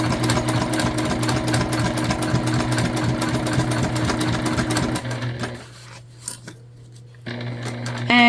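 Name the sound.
sewing machine stitching a book bag tote seam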